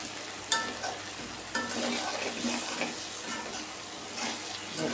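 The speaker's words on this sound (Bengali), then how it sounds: "দেখুন ভেন্ডি ভাজিটা হয়ে গেছে।" Okra (bhindi) fries in oil in a pan while being stirred, with steady close sizzling broken by a few sharp scraping stir knocks throughout.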